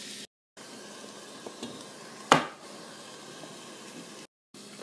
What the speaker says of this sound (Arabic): لازم تسمع التش هذي